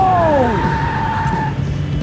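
Tires screech as a car skids in Max Payne 3, a loud sweeping squeal that bends downward and fades over about a second and a half under steady engine noise.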